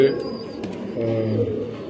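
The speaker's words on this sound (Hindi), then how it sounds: "ये जाफरानी कबूतर, जाफरानी, हाँ पत्ती तो जाफरानी है उसकी" A saffron-coloured jafrani pigeon in a breeder's new pair setup gives low, soft, close cooing, with a faint human voice murmuring underneath.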